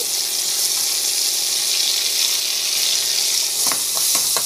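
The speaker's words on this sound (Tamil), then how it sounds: "டமாட்டோ ஆட் பண்ணிட்டு நல்லா வந்து வதங்க." Chopped tomatoes sauté in a hot pan with onions, giving a continuous close hiss and sizzle with a few soft scraping stirs near the end.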